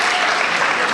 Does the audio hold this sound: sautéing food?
no